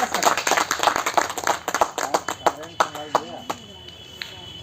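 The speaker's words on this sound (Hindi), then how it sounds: "इनके लिए जोर से एक बार ताली बजनी चाहिए।" Enthusiastic clapping from a crowd at a Patanjali yoga gathering, loud and close, with sharp irregular claps that thin out toward the end while voices talk underneath.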